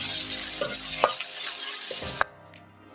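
Oil poured into a hot pan for making chicken oil, giving a steady close sizzle with a few sharp clinks of the pan before the sound drops away near the end.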